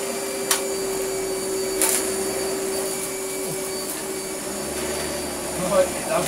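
A Hitachi CV-50D upright vacuum cleaner runs loud and steady, its motor whine joined by a brush roll switched on and off, with a few faint clicks and brief talk over it.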